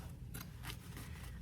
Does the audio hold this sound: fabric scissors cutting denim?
yes